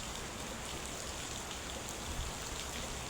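Steady rain falls and patters on surfaces, a dense, even hiss throughout with no voices.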